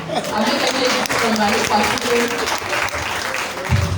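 A church congregation applauds at a service, with steady, dense clapping throughout and crowd voices mixed in.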